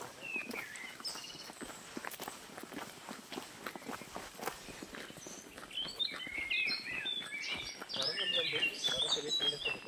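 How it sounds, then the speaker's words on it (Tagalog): A wild bird sings on Baska mountain, high chirps and trills growing clearer toward the end, mixed with footsteps crunching along a trail and faint voices nearby. "Tunay na ibon na yan."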